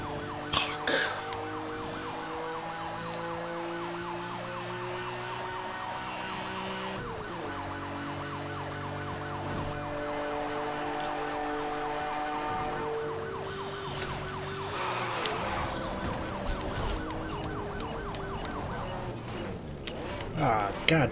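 Police car siren in Need for Speed Hot Pursuit Remastered, a loud wailing siren sweeping steadily through a racing scene over constant engine roar and game music, running the whole time.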